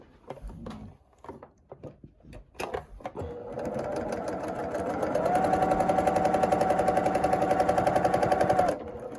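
A sewing machine stitches a quarter inch seam on quilt pieces, a steady rapid mechanical whir for several seconds after a few clicks and handling noises, close and fairly loud.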